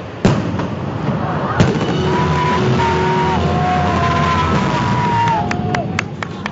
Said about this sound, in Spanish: A la medianoche el cielo fue iluminado, un espectáculo de fuegos artificiales por sus 481 aniversario de fundación.